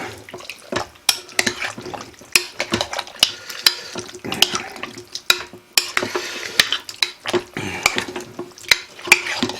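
Cocktail wieners get stirred with barbecue sauce in a crock pot, a series of repeated wet scraping and clacking strokes that go on steadily at close range without any talk.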